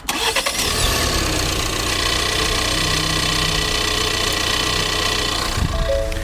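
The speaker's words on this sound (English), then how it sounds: "That is the sound of Ford's 2-liter EcoBoost engine" A 2021 Ford Bronco Sport's turbocharged 2-liter EcoBoost engine idles steadily and close by, a constant low rumble with a slight rough edge after an initial start.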